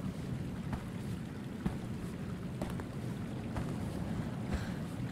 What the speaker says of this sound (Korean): 물소리다.